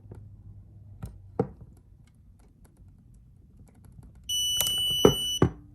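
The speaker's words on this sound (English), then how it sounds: "it actually beeped when there was too much weight on the device" A Wheeler Engineering trigger gauge gives one sustained electronic beep of about a second when overloaded past its weight limit, close and clear, with a few faint clicks and handling taps before and after.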